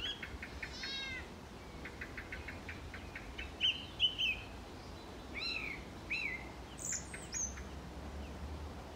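Geese call outdoors on a spring evening near horse paddocks, repeated honking and squeaky cries in short clusters at moderate distance over a low wind-like rumble, with no talk.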